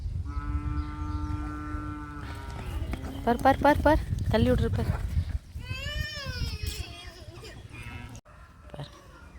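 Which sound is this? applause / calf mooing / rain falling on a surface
calf mooing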